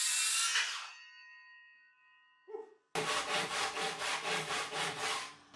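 A bright metallic ring fades out, then a Japanese-style pull saw cuts wood in quick, even back-and-forth rasping strokes, close and clear, in a garage workshop.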